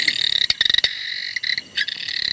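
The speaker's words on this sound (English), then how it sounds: "It's called the masked cave frog." A masked cave frog in Kakadu calls with a steady, high, canary-like trill, layered with sharp clicking bursts, heard alone and fairly close without any talking.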